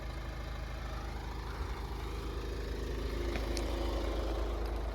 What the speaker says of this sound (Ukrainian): Двигунчик працює просто ідеально, тихенько.